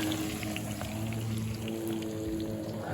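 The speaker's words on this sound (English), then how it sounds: "lay it right in the grease" A thick piece of chicken sizzles steadily in hot grease at a riverside beach campsite, a constant crackling hiss with no pauses.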